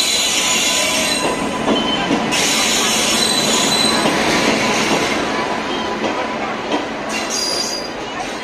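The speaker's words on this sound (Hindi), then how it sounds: "तो जो ट्रेन आने वाली है आई थिंक से वो गंगानगर एक्सप्रेस है" A Jan Shatabdi or Ganganagar Express train rolls into a station platform near Haridwar, with loud, constant rumbling, squealing wheels and light clickety-clack, heard up close.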